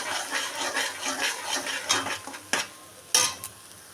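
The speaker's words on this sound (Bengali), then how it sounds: "এবার আমি আদা রসুন এবং কাঁচা লঙ্কা বাটাটা দিয়ে দিলাম হুম এবার ভালো করে মিশিয়ে নিয়ে আর একটু হতে দেবো" Ginger, garlic and green chili paste frying in a pan for a curd-style catla fish curry, with a soft steady sizzle under scraping stirs and a couple of sharp utensil clacks near the end.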